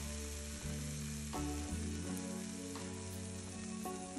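Eggs fry in hot oil for crispy-edged sunny-side-up eggs, crackling and sizzling loudly and continuously with sharp popping spatters, no voices.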